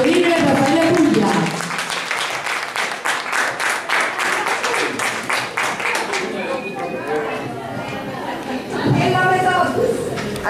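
Audience applause at a Neapolitan classic song festival with street musicians, a dense burst of clapping mixed with crowd chatter and voices, fading briefly and swelling again near the end.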